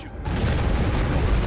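A C4 charge detonates in a heist video game, a loud, dense boom that swells within a fraction of a second and rumbles on without fading.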